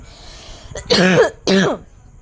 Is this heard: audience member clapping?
no